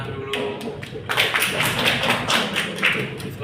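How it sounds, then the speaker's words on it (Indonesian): Applause from a classroom of students, a dense spread of hand claps that starts abruptly and carries on steadily at a fairly loud level for several seconds. "boleh tepuk tangan dulu."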